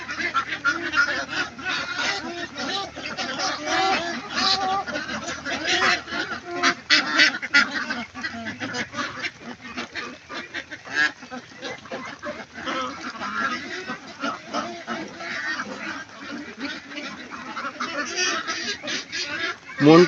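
A large flock of ducks crowds a big farm pond, honking and quacking in a dense, continuous chorus that rises and falls in loudness, with occasional faint voices nearby.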